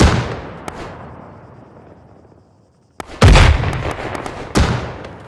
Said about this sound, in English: We're getting grenaded, we don't know where the guy is.